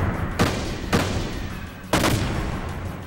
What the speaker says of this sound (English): Let's see if I can hit him with the impact gun.